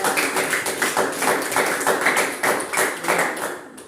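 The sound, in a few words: classroom applause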